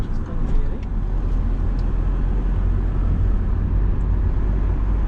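A car picks up speed during a driving lesson, its engine and road noise a steady close rumble that fills the cabin for several seconds.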